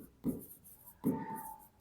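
Two short bursts of writing on a board during a maths lesson on straight lines, quick scratchy strokes with a brief squeak, close and moderately loud, with no talking.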